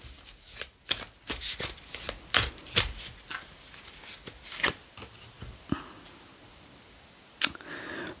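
A deck of tarot cards being shuffled close by, with repeated crisp riffling bursts in an uneven rhythm, then a short pause and a final sharp snap of cards.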